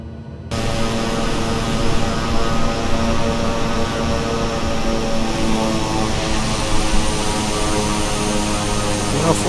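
A simulated airliner on landing approach to Charles de Gaulle in Microsoft Flight Simulator 2020, a BR Sim Designs E121A1, its steady loud engine drone and cabin hum running unbroken throughout after a brief quieter start.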